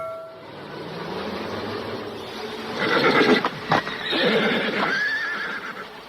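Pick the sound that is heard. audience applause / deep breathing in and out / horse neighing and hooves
horse neighing and hooves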